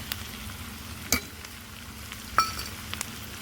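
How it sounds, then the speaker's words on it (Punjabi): Onions and chopped tomatoes fry in a pan for Punjabi bhindi sabzi: a steady, soft sizzle runs throughout, with a couple of brief utensil clinks against the pan. "ਪਿਆਜ਼ ਅਸੀਂ 2-3 ਮਿੰਟ ਲਈ ਭੁੰਨ ਲਾਂਗੇ ਜਦੋਂ ਤੱਕ ਹਲਕੇ ਬਰਾਊਨ ਨਾ ਹੋ ਜਾਣ"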